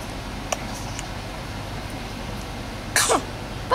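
A single short sneeze bursts out near the end, over a quiet room background with a few faint ticks.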